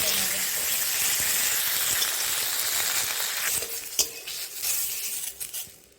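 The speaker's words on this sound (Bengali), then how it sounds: "টমেটোগুলো একটু হালকা করে ভেজে নেব।" Tomatoes frying lightly in a pan for vegetable khichuri, a bright steady sizzle that thins out midway, followed by a few clinks and scrapes of a utensil against the pan.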